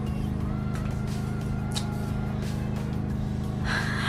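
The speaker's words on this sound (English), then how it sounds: "I apologize for the lawnmower in the background." A steady low mechanical drone of a lawnmower engine running outdoors, constant throughout with a few faint higher rustles on top.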